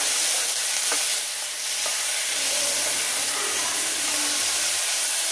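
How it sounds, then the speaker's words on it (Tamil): Shallots sizzle as they fry in a pan, giving a loud, steady hiss close up with a few faint clinks of stirring and no talk. "நல்லா வதங்கட்டும் வெங்காயம்"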